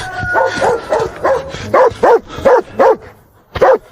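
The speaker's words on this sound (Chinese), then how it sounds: "二狗子在叫，可能有行尸。" A dog in a snowy northeastern Chinese village barks about eight times in a steady series of sharp, loud, close barks with short gaps, sometimes slightly whimpering at the edges, with no talk over it.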